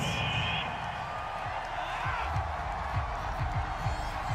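Home stadium crowd in the NFL 22 football video game, a broad steady roar with cheering under continuous commentary voices, and a few low thumps scattered through.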